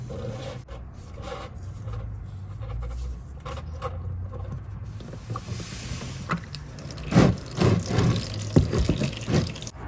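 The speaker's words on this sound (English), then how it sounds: "the oil is going to slowly start to drip down" Engine oil draining from a BMW E60 M5 into an oil pan, a steady liquid trickle with irregular splashy drips and louder gurgling bursts toward the end.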